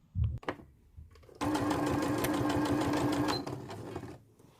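A few soft clicks and handling noises, then a sewing machine whirs steadily for about two seconds before winding down and stopping.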